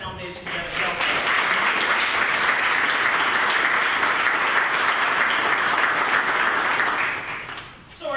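An audience breaks into a long round of applause at a health initiative event, loud sustained clapping that swells quickly, holds steady for several seconds, then fades out.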